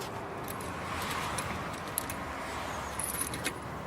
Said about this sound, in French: Ma clé n'ouvre pas.